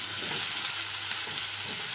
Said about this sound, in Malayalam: ഇപ്പോൾ നമ്മൾ സവാള ഒന്ന് ഫ്രൈ ചെയ്തെടുക്കാനാണ്.